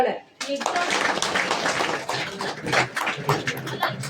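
An audience at a Sister Nivedita Jayanti event breaking into clapping after a brief silence, a dense, close burst of hand claps that dips and surges again, with a voice speaking over it.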